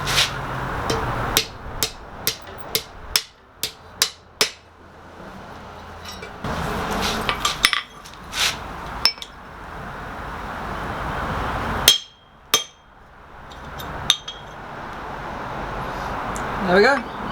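A hammer strikes a hand-forged steel hasp for a rice chest on an anvil. Sharp, ringing blows come in quick runs separated by pauses, close and loud, with some voice in between.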